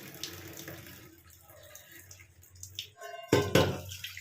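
A kitchen tap runs while hands are rinsed during cooking, a quiet trickle that swells into a louder gush of running water near the end.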